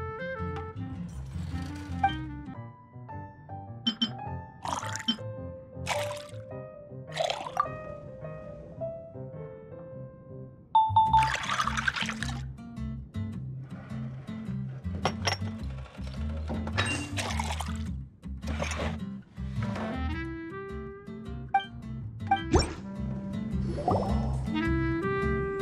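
Water trickles and pours into a drink in the video game Genshin Impact, soft liquid splashes and clinks set among gentle background music and short game effects, with no one speaking.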